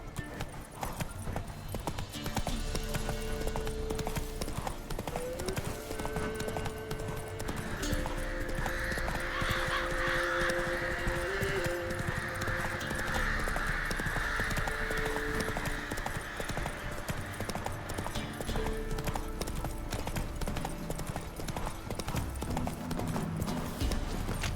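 Hooves of the horse Roach clip-clop in a steady rhythmic gait through The Witcher 3, loud and continuous over game music, with a whinny midway.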